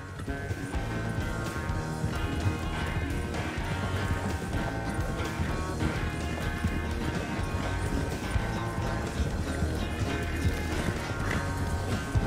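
A horse gallops steadily in Red Dead Redemption 2, its hoofbeats rapid and continuous under a dense layer of music and game sound, with no talking.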